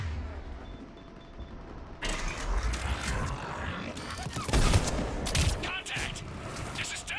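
Video game gunfire crackles in quick bursts after a quiet start, loud and dense, with sharp shots cutting through a busy combat soundscape.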